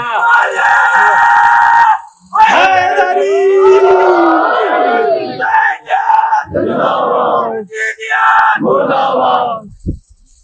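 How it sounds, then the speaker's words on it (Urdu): A religious gathering (majlis) at an imambargah in Kharian Cantt: a crowd shouts the Haidari slogan in loud, close call-and-response bursts, with brief pauses between chants. "اگر نعرہ حیدری ادھر سے ہو تو یا علی کی آواز بھی ادھر سے آنی چاہیے کم از کم"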